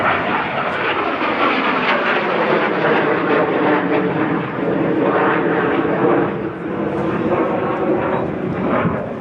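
A restored A-37 Dragonfly jet roars past at an airshow, a loud, continuous engine rush that rises and falls slightly as it flies by, with an announcer speaking over it.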